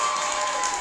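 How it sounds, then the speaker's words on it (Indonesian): An audience applauds at a closing ceremony for a waste-processing program at a boarding school, a brief, steady patter of many hands at moderate volume. "Jadi tepuk tangan."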